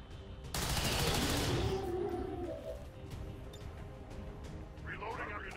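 Burst of gunfire in the turn-based strategy game XCOM 2, a loud rapid volley starting abruptly and fading into a lingering din, under ongoing game sounds.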